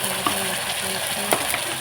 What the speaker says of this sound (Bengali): পেঁয়াজটা ভালো করে ভাজছি